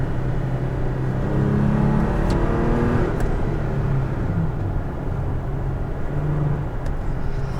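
A 2018 Toyota Tacoma TRD Pro truck engine rumbles steadily as it accelerates hard, a continuous loud, close drone with shifting pitch as the transmission drops a gear, with no talking over it.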